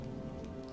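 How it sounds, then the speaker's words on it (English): Rain falls in the video game Empire: Total War as a soft, steady patter on surfaces, faint and continuous over a short moment with no voices. "Rain."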